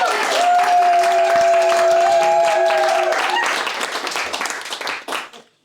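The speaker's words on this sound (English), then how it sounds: "Everybody please give a warm round of applause for Sean Clark." An evening audience at a talk on London's history applauds the mudlark speaker as he is introduced. Dense clapping from a room of people holds steady for about three seconds, then thins into scattered claps and fades out, with a sustained tone briefly ringing underneath.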